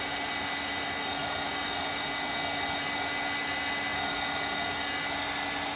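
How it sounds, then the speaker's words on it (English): Hair dryer blowing on fresh paint on a door hanger, a steady, loud, close whoosh running without a break for several seconds. "I'm gonna hit this with the dryer real quick."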